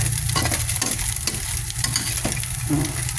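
Chicken pieces fry and brown in a pan for chicken patties, a dense, steady, close sizzle with rhythmic pulses of stirring.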